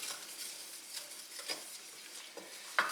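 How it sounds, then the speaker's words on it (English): Flour being stirred in a hot pan to cook off its raw taste, giving a soft continuous scraping with faint sizzle, steady and close, with one sharper knock near the end. "you just stir this around for about a minute so that you can cook the flour and get rid of its raw taste"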